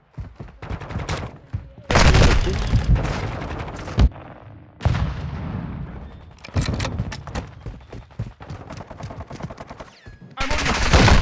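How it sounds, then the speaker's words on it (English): Loud bursts of rifle and automatic fire in Black Ops 2, where an SA-B 50 marksman rifle is in use, with several heavy volleys separated by brief quieter gaps. "Taking enemy fire."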